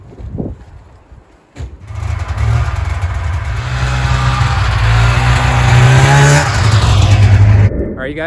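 A snowmobile sled engine fires up and revs steadily, loud and close, while being unloaded from a truck onto a sled deck ramp, with mechanical rumble building and holding before cutting off near the end.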